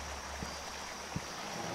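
A river flows in The Beast Inside video game, a steady low rushing of water with a couple of faint soft knocks.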